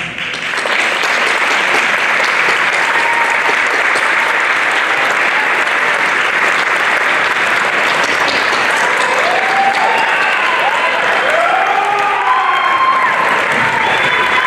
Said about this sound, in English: I'd like all of my coaches, head coaches, assistant coaches, any volunteer coaches that we have in here to please stand so we can give you a round of applause.